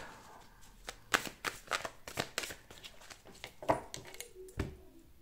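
A deck of tarot cards being cut and handled in a quiet room, giving a series of close, soft papery snaps and riffles at irregular intervals with no one speaking.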